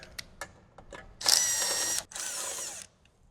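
Power tool backing out two T40 bolts that hold the factory ECU on a 2014-or-later Harley-Davidson Touring motorcycle, a couple of faint clicks then two loud, close bursts of whirring, the first about three-quarters of a second, the second slightly longer.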